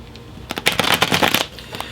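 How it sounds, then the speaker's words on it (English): A thick tarot card deck being shuffled by hand, a quick burst of riffling flutters lasting about a second, close and clear with no talking. "So let's pull some tarot cards."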